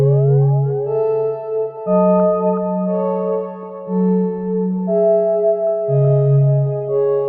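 Pitch-gliding granular synth patch from Omnisphere, sustained notes sliding between pitches over a low bass tone, steady and loud with no one talking.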